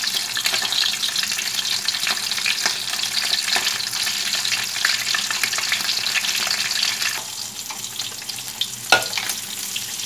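Mackerel frying in hot oil for Thai chili paste, a steady close sizzle and crackle with scattered sharper pops, no voices.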